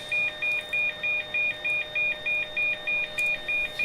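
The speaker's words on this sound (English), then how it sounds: "that beeping you're hearing is the aircraft basically saying you need to have some ground power if you want the IRSs to be powered" A warning beep sounds on a Boeing Business Jet in the Prepar3D flight simulator when it needs ground power: a steady, evenly spaced series of about a dozen short electronic tones over faint background hum.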